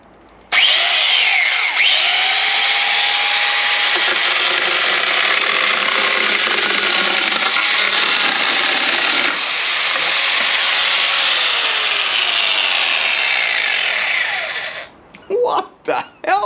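A power tool fitted with a chainsaw attachment screams loudly and continuously while cutting wood, holding for about fourteen seconds before cutting out into a few short bursts.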